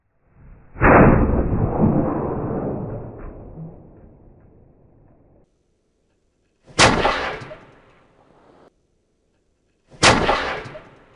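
Black powder gun firing musket balls, ignited through the touch hole: three loud booming shots, each rolling off into a long echoing decay, spaced several seconds apart with silence between, no talk.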